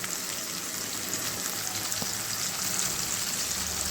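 Kochu saag greens sautéing in a pan with salt and chili powder, a steady broad sizzle of frying that runs evenly throughout with no voices.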